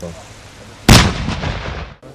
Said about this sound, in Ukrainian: здійснити постріл за допомогою кнопки пуск